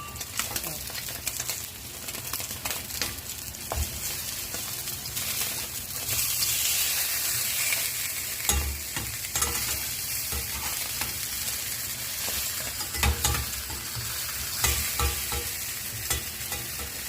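Dried anchovies (dilis) frying in a pan give a continuous crackling sizzle with scattered pops and stirring scrapes, louder in the second half.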